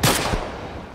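A pistol shot rings out in The Last of Us Part 1, one loud, sharp crack at the start that decays into a long, fading reverberant tail.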